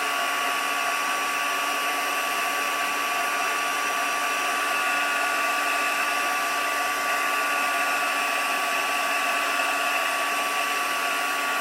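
A heat tool blows hot air steadily to melt ink for a watercoloured card, a constant loud whooshing hum with no breaks and no talking.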